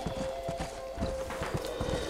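Horse hooves clip-clop in a steady walking rhythm with a whinny in a Red Dead Redemption game scene, close and moderately loud, faint background noise beneath.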